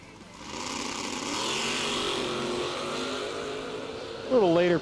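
Drag racing Firebird launching down the strip at a doorslammer event, a loud sustained engine roar building and holding, with a sharp louder burst near the end as talk carries over it.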